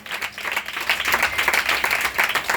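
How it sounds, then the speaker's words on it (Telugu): An audience at a gathering claps steadily, a lively wash of many hands with flickering individual claps, fairly loud and sustained throughout, with no distinct voices. "చప్పట్లు కొట్టండి గట్టిగా"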